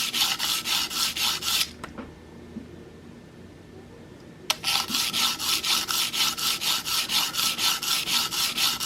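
A Cutthroat broadhead is stroked back and forth on an abrasive to put a secondary bevel on it, giving a steady, rhythmic scraping, close and loud, with a brief pause partway through.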